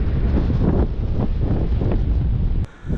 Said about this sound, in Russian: Конечно, ветер здесь тоже сильный.